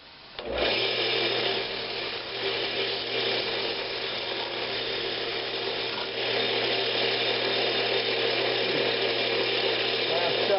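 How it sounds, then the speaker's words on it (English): Wood-turning lathe running steadily while the inside of a shadow box Christmas ornament is sanded, a continuous broadband whirring and abrasive hiss with a low motor hum, close and loud from start to finish. "So what I'm going to do now is go ahead and kind of sand up the inside."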